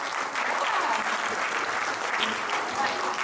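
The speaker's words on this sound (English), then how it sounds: "let's just give both the teams a round of applause" Audience at a Guru Poornima gathering in Auckland applauds both tied quiz teams, a dense, steady wash of clapping that holds evenly loud for the whole stretch.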